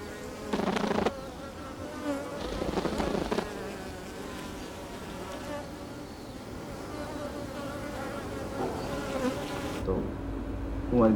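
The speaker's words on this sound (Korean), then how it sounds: "일본 꿀벌은 날개 진동으로 어떤 종류의 정보를 교환하는 걸까요?" Japanese honeybees buzz steadily with vibrating wings, a dense, close insect drone that swells in a few louder bursts.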